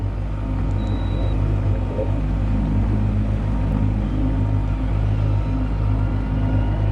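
A 2022 Mercury Pro Kicker 9.9 EFI outboard motor runs on a boat with a steady, continuous droning hum at close range, unbroken and with no talking.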